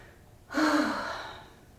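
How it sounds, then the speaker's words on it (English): A single deep inhale taken during a yoga session, close and clear, rising sharply and then slowly fading out with no talk over it. "Take a big breath."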